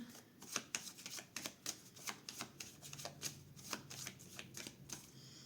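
A deck of tarot cards being shuffled and cut, a steady run of crisp riffling flicks and soft slaps, close and fairly quiet with no talking.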